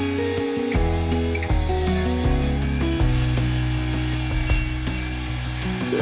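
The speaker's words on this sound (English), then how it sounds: "We've marked the wood at exactly 66 inches and we're gonna start sawing." A hand saw cuts through a barn wood plank in a steady back-and-forth rhythm of strokes, close and fairly loud, with no talk.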